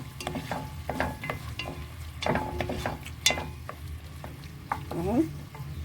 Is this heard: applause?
no